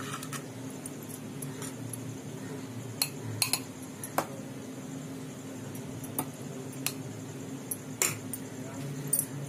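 Guava pulp spooned into a glass for homemade guava juice, heard as a handful of light, sparse metal-on-glass clinks and taps over a steady low kitchen hum.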